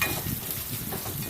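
Chana dal, urad dal, chopped onion, dried red chili, garlic and green chili fry in mustard oil with a soft, steady sizzle and crackle, fairly faint and brief.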